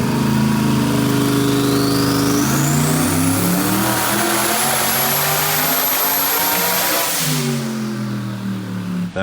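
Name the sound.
1,500 horsepower car engine revving on a dyno run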